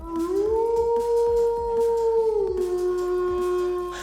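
Robotic wolf with red eyes and sharp teeth, used in Japan to scare bears away, letting out a single long wavering howl that rises, holds steady and dips, loud and close with faint clicking underneath.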